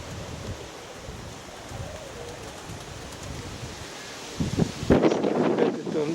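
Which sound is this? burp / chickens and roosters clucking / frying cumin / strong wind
strong wind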